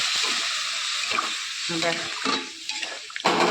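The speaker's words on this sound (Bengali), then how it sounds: "তাকে কষিয়ে দিচ্ছি বন্ধুরা" Spices sizzle as hot water is added to a frying pan and stirred. There is a bright, hissing sizzle with bursts of bubbling and spattering, and a louder surge at the end.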